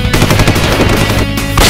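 Machine gun fire in a video game, a loud, fast, continuous rattle of rapid shots that fills the whole short burst, with no talk over it.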